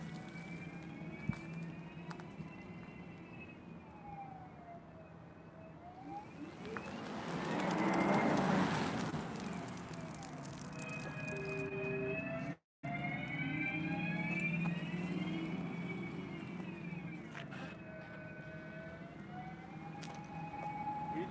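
A 2021 Volkswagen ID.4 1st Edition electric car gives off its artificial driving sound while accelerating and braking, a steady synthetic hum with rising and falling whine-like tones that swell mid-clip, briefly cut out, then resume.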